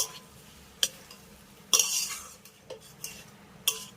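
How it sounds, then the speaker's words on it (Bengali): A spoon scrapes and clacks against a pan while fried pumpkin and potato are tossed with spices, a few sharp metallic strikes over a faint sizzle, close up and without speech. "মিষ্টি কুমড়ো আর আলুটাকে একবার নেড়েচেড়ে মিশিয়ে নেব"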